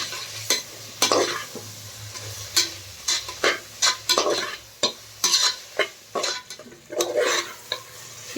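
A spoon stirs mint and coriander leaves sautéing in a pan for soya bean biryani, giving repeated sharp scrapes and clinks against the metal over a soft frying sizzle.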